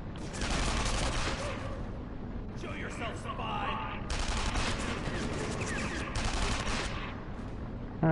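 Rifle fire in the video game CounterSpy comes as rapid bursts of shots in several clusters, loud and close, while a person talks over the shooting.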